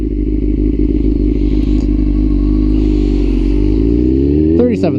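A 1999 Yamaha R6 sport bike with 37,000 hard miles runs at a close, loud, steady idle, then revs sharply near the end with a rising whine and crackle.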